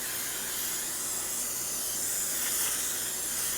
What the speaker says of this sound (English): we're going to spray our 9 by 13 inch pan with some Pam.